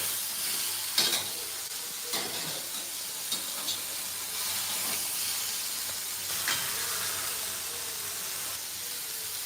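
Tomatoes and green chillies frying in a pan for a fresh green chilli relish, giving a steady broadband sizzle with a few brief stirring scrapes scattered through, close and continuous with no voices.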